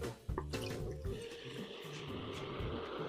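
Hydrogen peroxide splashes onto a scooter catalytic converter and decomposes, giving a loud burst followed by a continuous turbulent hiss and rushing of steam, close and steady with no voices.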